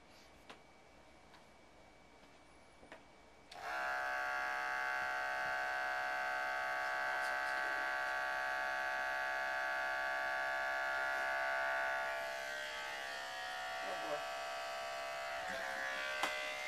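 After a few seconds of quiet, electric dog grooming clippers switch on and buzz steadily and close by, with the tone dropping slightly partway through during a mock trim on a dog.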